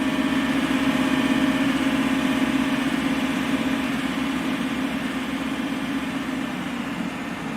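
Steady simulated engine idle from a Boeing 747-8F in the Prepar3D flight simulator, heard from behind the engine: a continuous low rumble with a hissing whine, holding level throughout with no voices.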